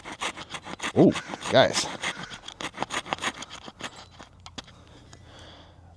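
A multitool saw blade cuts a notch in a hardened round wood dowel about 3/4 to 1 inch thick, giving rapid back-and-forth rasping strokes at close range that fade toward the end, with a voice speaking briefly over the start.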